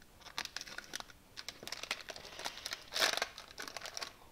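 Plastic product packaging for an electronics programmer is cut and pulled open, giving close crinkling, crackling and tearing in irregular bursts with one louder rip partway through.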